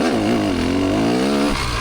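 A 2-stroke Kawasaki KX250 dirt bike fires up from a dead-engine kick start in second gear, its engine catching and holding a loud, buzzing, slightly wavering drone close by, no voices.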